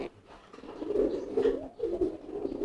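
Newly acquired pigeon cooing in soft, low repeated phrases, a few throaty coos in a row at close range with no talk over them.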